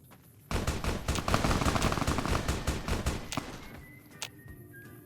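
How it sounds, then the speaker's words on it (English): Sustained rapid automatic gunfire in Fallout New Vegas hammers out loud and close for about three seconds, then breaks off into quieter ambience with one more isolated shot. "Who's shooting?"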